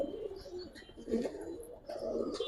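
Giribaz pigeons in a loft coo in low, rolling phrases, two or three swells close by, over a faint background of other birds.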